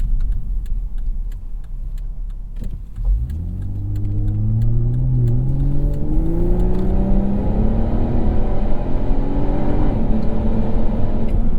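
A 2015.5 Volvo V60 T6 Polestar's turbocharged inline-six pulls hard under acceleration, a loud steady engine drone rising smoothly in pitch through the gear with a constant rumble underneath.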